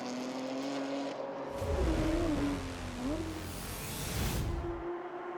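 Race cars in a Belcar Series endurance round at a NASCAR finals event thunder by at steady high revs, with a sustained engine drone that swells as a car passes and fades back, no voices.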